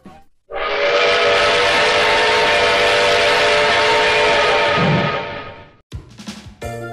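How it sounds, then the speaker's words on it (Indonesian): A steam locomotive's five-chime whistle, Indonesia's most modern steam engine delivered from the Netherlands in 1951, sounds one long, loud, steady chord for about five seconds before cutting off, followed by a few mechanical clanks. "Lokomotif ini memiliki suling dengan tipe 5-chime whistle."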